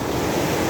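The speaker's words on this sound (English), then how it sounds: "That's a surging wave." A surging ocean wave crashes onto a beach, a steady, loud wash of surf filling the moment, with wind noise across the microphone and no talking.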